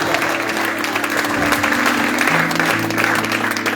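A church congregation claps together at a worship service, a dense, steady wash of applause holding at even loudness throughout, with a sustained musical tone humming beneath and a faint voice mixed in.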